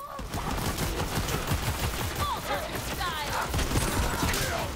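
Shotgun blasts in Borderlands 3 repeat in a rapid, steady volley of close, loud shots, mixed with mechanical clanks and whizzing game effects.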